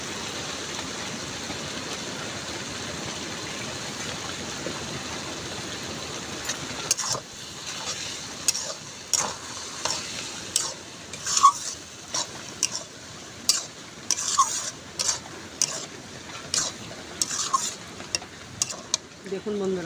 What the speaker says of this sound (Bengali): প্রচুর জোরে বৃষ্টি আসছে মুসুলধারে বৃষ্টি আসছে